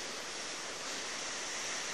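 Ocean waves along the Dakar corniche in Senegal make a steady, broad wash of surf. Some wind noise sits in it, and it runs continuous and fairly loud with no voices.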